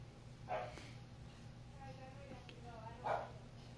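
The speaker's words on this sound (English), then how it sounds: "Sorry if you guys hear my corgi barking." A corgi barks twice somewhere in the room behind, the barks faint and muffled and spaced a few seconds apart under low steady background noise.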